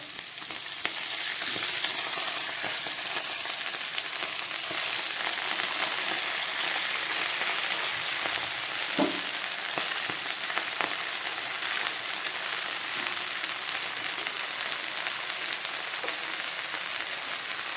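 Chopped bottle gourd greens added to a pan of lightly fried potatoes, frying with a dense, even sizzle close up, broken by scattered crackles and an occasional scrape of stirring.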